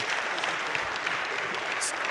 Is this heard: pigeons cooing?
no